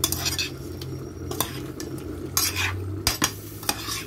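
Sardines in olive sauce stirred in a cooking pot, a utensil scraping and clinking against the metal in a few distinct knocks over a steady low hum, close and moderately loud with no talking.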